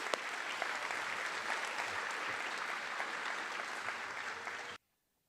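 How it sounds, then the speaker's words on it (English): An audience at a National Board Certification teacher pinning ceremony claps in sustained, even applause for several seconds before it cuts off abruptly. "let's give them a round of applause"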